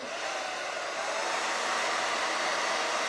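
A hair dryer blows steadily at close range to dry wet chalk paint on a pillow, giving a continuous, even whooshing hiss that runs alone for the full few seconds.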